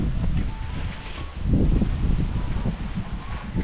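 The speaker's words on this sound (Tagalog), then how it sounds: "Lakas ng hangin." Strong wind buffets and rustles steadily across the microphone, a dense rushing noise with gusts swelling midway.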